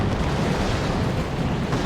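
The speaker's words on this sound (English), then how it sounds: "It's a creeping barrage." Artillery shells from a creeping barrage pound the ground in the Warhammer 40,000: Dawn of War 2 strategy game, a dense, continuous roar of overlapping explosions, loud and close with no talking.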